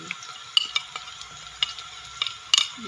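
Whole spices, including a cinnamon stick, cloves and white cumin, sizzle in hot oil in a pan, giving a steady faint frying hiss with scattered small crackles and a few light clinks, with no talking.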